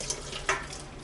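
Water from cooked noodles pouring through a strainer into a kitchen sink, a running splashy trickle with a brief louder splash partway through, close and fairly quiet.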